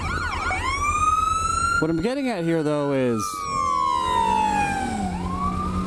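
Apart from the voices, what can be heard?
ambulance siren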